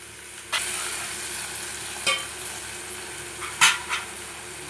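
Chopped tomato frying in a pan for a prawn curry, a steady soft sizzle with a few sharp scrapes and stirring clinks, no talking.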